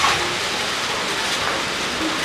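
Rain falling steadily on a surface, an even hissing wash of drops close by, with no talk.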